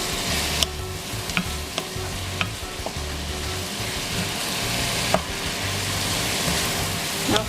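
Ground beef and shallot fry in a pan with a steady sizzle, broken by scraping stirs and occasional sharp clinks of a utensil against the pan, close and alone without talk.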